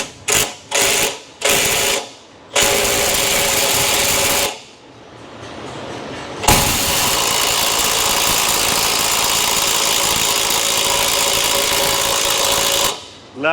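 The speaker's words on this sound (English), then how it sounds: "let's see if the little air gun's gonna pull it off here" A small air impact gun hammers at a worn ball joint on a Ford Explorer 4.6 in a repair shop, starting with several short loud bursts and then settling into a long continuous rattling run close by.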